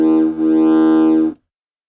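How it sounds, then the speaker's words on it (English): A short, thick, buzzy triangle-wave synth tone through a small overdriven Medic Modules Voice Box eurorack speaker, held steadily for just over a second, with a brief dip in the middle, then silence. "Here's a triangle wave."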